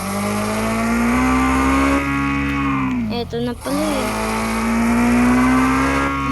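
A Kawasaki H2R motorcycle engine holds a steady loud drone with a brief rev dip and rise midway, while someone talks over it.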